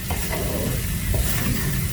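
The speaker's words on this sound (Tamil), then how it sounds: "ரா ஸ்மெல் போகிற வரைக்கும் நல்லா வதக்கிக்கோங்க." Rendang spice paste cooks over a low flame, giving a dense, steady sizzle and bubbling with a few faint stirring scrapes, close and even throughout.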